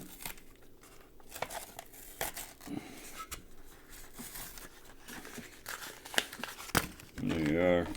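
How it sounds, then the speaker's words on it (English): Tape is peeled and torn off a styrofoam sculpture in short crinkling, ripping bursts up close, ending in a longer tearing stretch, with a voice faintly present. "now that I'm taking the tape off, I'll just do this"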